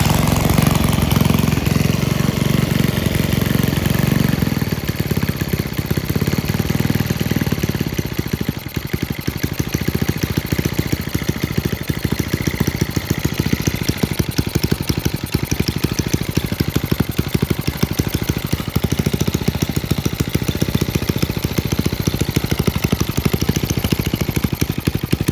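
A BSA Power Unit 49cc engine runs steadily and loudly throughout, with a slightly juddery, uneven beat at low pitch and no talk over it.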